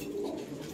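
A brief, close, continuous low cooing from domestic breeding pigeons, with no other sound over it.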